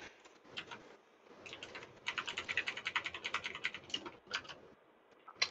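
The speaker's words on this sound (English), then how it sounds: "I just hear your keyboard just sweating in the pre-lobby." Rapid computer keyboard typing during a Fortnite game lobby, a quick patter of clicky keystrokes that starts sparse and builds into dense, steady bursts, fairly close and alone without speech.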